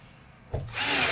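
A power drill drives screws while an in-wall speaker is being mounted: a short thump, then a loud, rising whir of the driver close by, with no talk.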